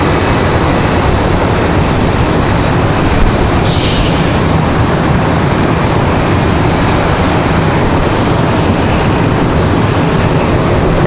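Frontier Boeing 737 airliner being pushed back at Charlotte Douglas airport, a loud steady broadband roar of jet engines and ramp noise running throughout, with a brief brighter hiss partway through.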